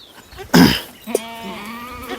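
A Kathiyawadi goat being milked lets out a loud, close bleat, followed by a shorter, wavering second call that trails off, with a burst of rustling noise just before.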